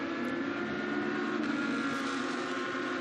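A GT2 race car powers out of a tight right-hand corner onto the pit straight at the Paul Ricard circuit, its engine a steady, loud, sustained roar held for the full three seconds with no voices over it.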